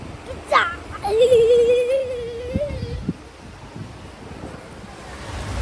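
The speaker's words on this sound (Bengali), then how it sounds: "এখন বিকালের দিকে দেখি যে একটু বাতাস হচ্ছে" Gusting wind at an outdoor water park on an afternoon, a low steady roar and rumble of air buffeting the microphone, with a voice briefly speaking over it near the start.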